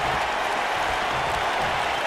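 A raucous wrestling crowd in Philadelphia applauds, a steady, dense wash of clapping and crowd noise with no break, heard from within the arena.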